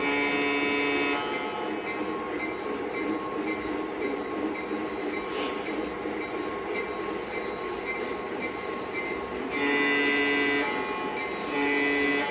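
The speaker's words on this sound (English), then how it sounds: "Let's see what the horn sounds like." A PRR E7A diesel locomotive sounds its horn in long steady blasts over a continuous engine rumble and hum, with a stronger horn burst near the end; no one talks.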